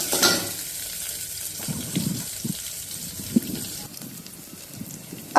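Four green chilies roast in a hot pan for spiced rice, crackling and sizzling with scattered pops and stirring scrapes, moderately close and without talk.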